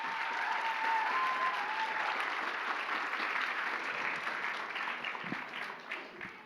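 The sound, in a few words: audience applauding cosplay performers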